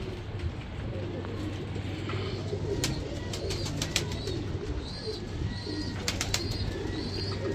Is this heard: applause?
no